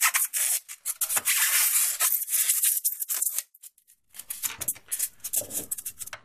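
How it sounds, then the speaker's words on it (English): Styrofoam being cut on a cutting board for a flower-pot craft, heard as close, dry, scratchy rubbing and squeaking strokes in irregular bursts, with a brief pause midway before more cutting. "We're going to cut this styrofoam out."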